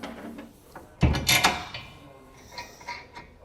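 A ratchet tightening bolts and nuts on a height-adjustable mount, producing a burst of close mechanical clicking and scraping in the middle, then fainter clatter.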